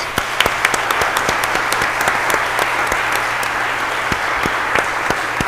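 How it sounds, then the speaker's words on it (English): A meeting audience gives a sustained round of applause at an annual organisational meeting, a steady dense patter of many hands clapping with a few sharper nearby claps, no talk over it. "Let's give Judy a round of applause."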